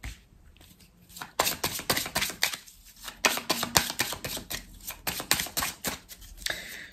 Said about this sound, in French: On va recouvrir certaines cartes.